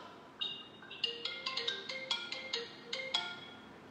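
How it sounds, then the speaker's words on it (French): A mobile phone rings nearby, playing a quick melodic ringtone of bright, repeating chime notes in a steady rhythm, alone without talk. "coupe ton téléphone qui sonne"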